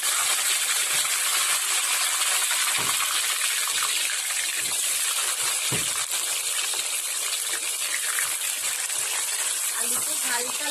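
Potatoes dropped into hot oil in a kadai fry with a loud, steady, hissing sizzle that fills the whole stretch, broken by a few soft clicks and knocks.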